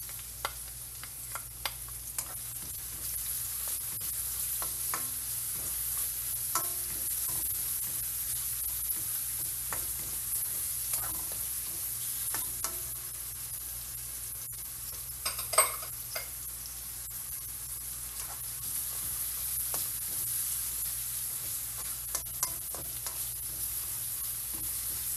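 Onions sizzling in a pan while sautéed for adobong pusit, a Filipino squid adobo, with a steady soft crackle and occasional clicks of stirring, one louder scrape mid-way, no talk.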